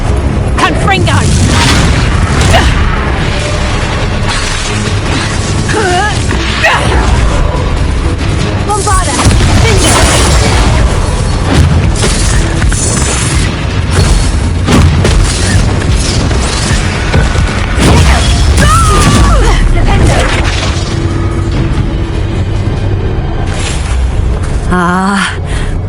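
A loud booming blast from a Confringo explosion spell in a video game, amid dense continuous effects and music, with voices speaking throughout.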